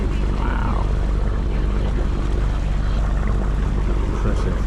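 A sailing boat's engine drones steadily and loudly while motoring across the Solent channel, with rushing water noise mixed in throughout.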